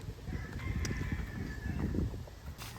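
A turkey's rough gobble rings out over a low, noisy rumble, heard outdoors at a campsite at moderate distance.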